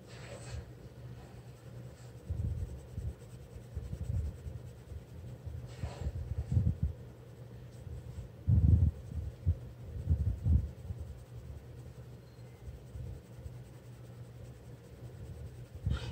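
Colored pencil being worked over paper in slow, layered strokes, a soft steady scratching with small bursts of firmer rubbing, close and quiet with no talk.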